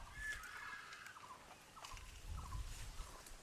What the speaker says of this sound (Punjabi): ਵਾਕਿਆ ਹੀ ਇੱਥੇ ਪੰਛੀ ਬਹੁਤ ਆ ਦੇਖੋ ਆਵਾਜ਼ਾਂ ਕਿਦਾਂ